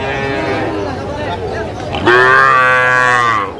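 A cow lets out a loud, drawn-out moo close by at a livestock market in Bangladesh selling Sahiwal bulls and calves, with a murmur of market crowd noise in the background.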